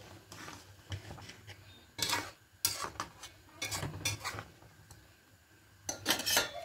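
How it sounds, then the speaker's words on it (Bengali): Dudh puli pithe simmering in a pot of milk are gently stirred, heard as irregular bursts of scraping and soft clinking against the pot with quiet gaps between them, close by and moderately loud. "এইভাবে আস্তে আস্তে করে একটু নাড়িয়ে নেবো পিঠেগুলোকে।"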